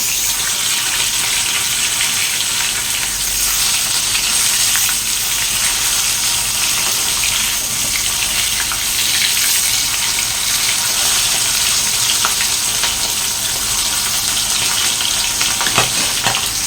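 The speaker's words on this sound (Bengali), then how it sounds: "এক পিট করে ভাজা হয়ে গেছে মাছগুলো, এগুলো তো উল্টে দিয়ে এত পরিমাণে ফুটছে বাবা।" Fish pieces frying in hot oil, a loud continuous crackling sizzle with sputtering pops that stays intense and close throughout, no voices.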